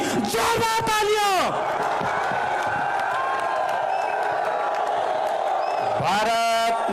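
A political rally crowd in Rajasthan cheers for Yogi Adityanath, with loud group shouts at the start and again near the end over a continuous roar of voices and claps.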